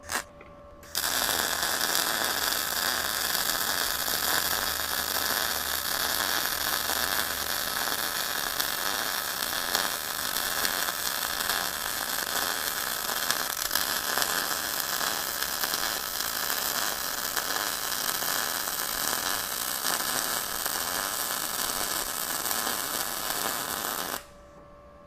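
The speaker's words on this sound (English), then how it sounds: "I'm going to weld that piece of 1/4 inch onto that 3/16." An ArcCaptain MIG200 MIG welder joins quarter-inch steel plate onto 3/16-inch steel, a steady crackling, sizzling arc that runs loud and continuous for about 23 seconds before cutting off.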